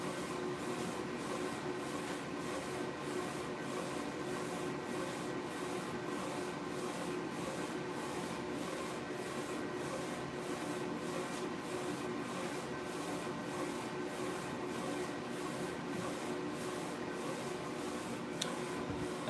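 A vinyl printer runs steadily, its carriage producing a rhythmic pulsing whir that repeats roughly every second over a continuous mechanical drone, close and even throughout with no talking.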